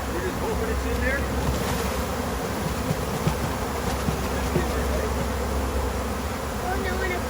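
Honeybees buzz in a dense, steady swarm while being moved into a nuc box at a hive harvest, a continuous close drone with faint background noise and no clear talk.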